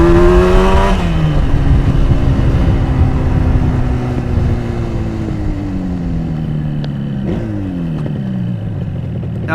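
A Yamaha RD400 two-stroke motorcycle ridden through traffic, its engine loud and close, with a buzzing, raspy drone that drops and rises as the rider shifts gears twice, the second shift near the end.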